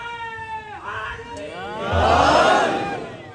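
A crowd at a religious speech shouts slogans in unison, rising voices swelling into a loud collective roar over a few seconds.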